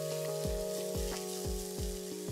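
Grated coconut sautés gently in a pan for a coconut jaggery dumpling filling, a soft, quiet sizzle under a steady low hum with a series of regular soft taps.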